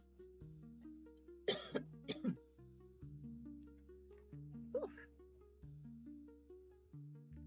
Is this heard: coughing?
yes